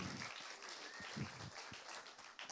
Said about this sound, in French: parce qu'on peut encore applaudir ça.